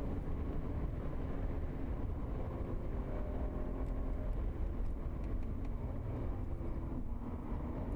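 An Audi S3 Sedan (2015) at speed on the Nürburgring, a steady, loud, broadband roar of engine, tyres and wind that holds constant throughout without a break.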